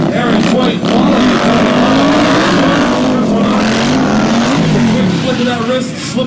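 An Indian Scout Bobber of about 100 horsepower revs hard at a stunt show, a loud, continuous engine roar with rising and falling pitch as the throttle and clutch work, while a commentator talks over it.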